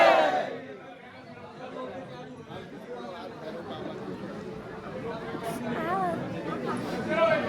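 A crowd of pilgrims walking up to the Bhairo Baba temple at dawn, a continuous murmur of many voices and shuffling with chatter close by and a shout or two.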